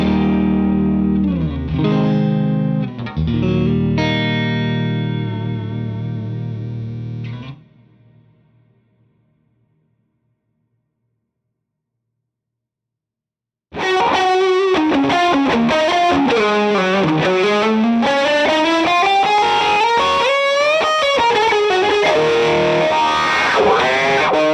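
A Strat-style electric guitar run through effects, heavy chords that cut off into several seconds of silence, then a fast, distorted lead line that plays loud and continuous to the end.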